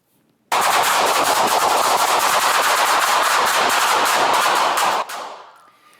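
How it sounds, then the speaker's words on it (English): A long, rapid burst of loud gunfire from a shootout between a suspect and police, captured on a body camera, rattles continuously for several seconds, then stops abruptly and leaves a fading echo. "he fired at cops, and they were trying to fire back"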